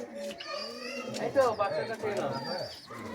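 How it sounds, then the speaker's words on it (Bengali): Old-line pigeons kept at a home loft coo in soft, repeated throaty calls, with a voice talking over them throughout. "খুবই পুরনো লাইনের পায়রা এটা"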